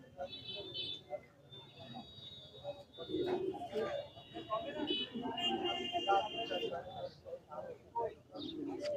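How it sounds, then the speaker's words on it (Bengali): Pigeons coo at a busy outdoor pigeon market in Gollamari, Khulna, low murmuring coos mixed with crowd noise while people talk nearby. "একটা গোল্ডেন কবুতর এটাও নর"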